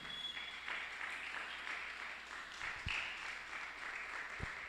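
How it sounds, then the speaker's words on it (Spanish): A congregation at an evangelical church service claps together in a faint, sustained round of applause that stays steady for several seconds. "Dale un aplauso al Espíritu Santo."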